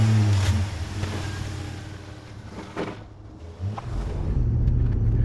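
A Jeep Grand Cherokee WJ out on a test drive, its engine rumbling steadily and rising into a louder, nearer rev toward the end, with road noise throughout and no talking.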